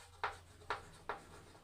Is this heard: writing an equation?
yes